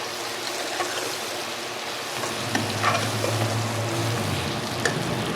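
Besan chunmuniya fry in a pan with a continuous close sizzle and bubbling, with occasional stirring scrapes rising through the middle, no voices.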